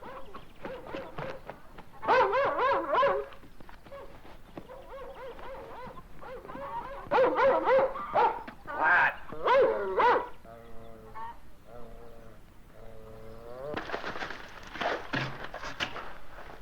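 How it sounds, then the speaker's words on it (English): A dog barks in repeated bursts over a steady background, with loud clusters of barks around the middle and end and quieter whimpering-like tones in between. "That damn dog's barking again."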